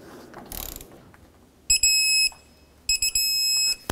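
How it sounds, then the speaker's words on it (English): Clicks of a torque wrench tightening a nut on the rear toe arm of a 2005-2010 Pontiac G6, heard as two short bursts of sharp mechanical ratcheting in a quiet garage after a brief rustle. "And then now I'm gonna torque it to 81."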